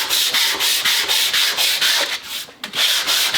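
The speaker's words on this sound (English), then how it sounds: "So I want to take a little bit of sandpaper and give this just a little bit" Sandpaper rubbed by hand over a hand plane, a loud close scratchy rasp in quick regular back-and-forth strokes with a brief pause, without talk.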